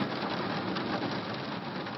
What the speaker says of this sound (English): I put on the rain sound when I have to fall asleep with on my iPhone